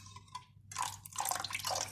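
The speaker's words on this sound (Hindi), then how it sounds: "इसमें थोड़ा सा पानी डाल के देखेंगे बस।" Water trickling and dripping into a bowl of thick curd batter for dahi bhalla, a soft intermittent pour that grows steadier, close and quiet with no talking.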